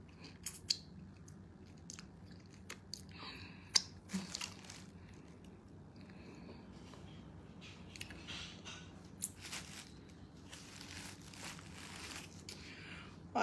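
Close, quiet chewing of tough goat meat eaten with egusi soup and bread, with irregular crunchy bites and mouth clicks over a low steady room hum, no talking.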